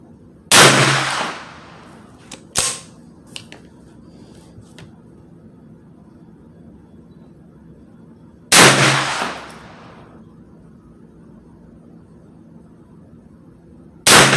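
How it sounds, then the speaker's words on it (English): Three loud, sharp gunshots from a 9mm Ruger PC Carbine Tactical, each a close, sudden crack with a short ringing tail, spread widely apart with quiet pauses between and a fourth shot cut off at the end. "I'm gonna go for 5 shots and see how it shoots."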